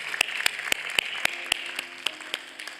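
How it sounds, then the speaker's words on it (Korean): Church congregation at a Sunday service claps in a slow, regular beat, about eleven distinct sharp claps spaced roughly a quarter second apart over a faint, low background. "우리 하나님께 감사의 박수를 드리겠습니다."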